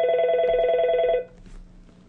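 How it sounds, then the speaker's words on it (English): An incoming call from a cell phone sets a desk phone ringing, a loud electronic ring tone that sounds clearly for about a second before cutting off, leaving faint room noise. "Okay, now there's a call from my cell phone."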